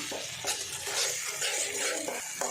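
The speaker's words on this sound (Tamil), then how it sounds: "நல்லா இதை கூட சேர்த்து மிக்ஸ் பண்ணிவிட்டு வதக்கி விட்டுருவோம்" A ground masala paste sizzles in a hot pan for mushroom gravy while a spoon stirs and scrapes through it, with steady frying hiss and occasional clinks against the metal.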